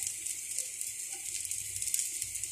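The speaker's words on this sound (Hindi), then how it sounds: "ये फ्राई हो रहा है परांठा हमारा" A raw potato aloo paratha sizzles steadily in ghee on a hot pan, a soft continuous hiss with faint crackles and no voices.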